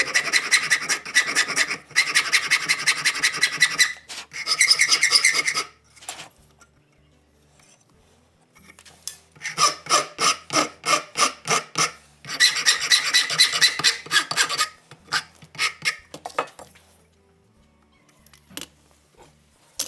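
A hand rasp bevels the corners of a wooden tripod part in a workshop, with bursts of rhythmic back-and-forth scraping strokes, close and loud, separated by short quiet pauses and isolated knocks, with no talk.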